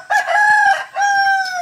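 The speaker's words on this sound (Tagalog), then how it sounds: "Alaga namin na manok." A chicken gives two loud, drawn-out crowing calls in quick succession, close by, with faint clucks underneath.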